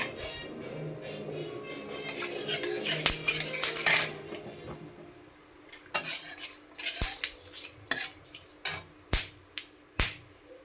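Bay leaves, four cloves, four cardamom pods and cinnamon fry in hot oil for a fish curry. A hissing sizzle comes first, then sharp metal spoon clinks and scrapes against the pan.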